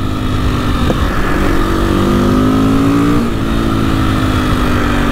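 An old carbureted KTM motorcycle rides past close by, its engine droning steadily and loudly with a rising and falling tone as the throttle shifts.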